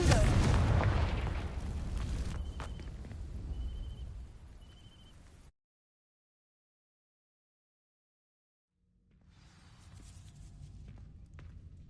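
A Confringo fire spell blasts dry vines in Hogwarts Legacy, a loud burst with crackling rumble that fades over several seconds, then full silence before quieter ambient sound returns.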